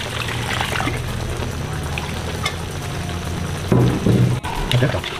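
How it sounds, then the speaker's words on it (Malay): Water is poured into a pot of fish simmering in soy sauce, a trickling splash over steady sizzling and stirring, with a few knocks of the utensil. "Kita masukkan air lagi."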